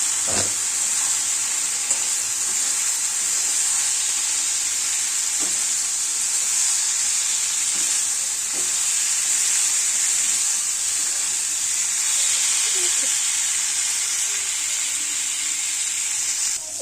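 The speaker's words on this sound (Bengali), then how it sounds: "পনির আলু যেগুলো যে সব ভেজে রেখেছিলাম এগুলো এখন এর মধ্যে দিয়ে কষিয়ে নেবো" Fried paneer and potatoes sautéing in a pan for a spicy matar paneer, a steady close sizzle with scattered scraping and stirring clicks throughout, no talking.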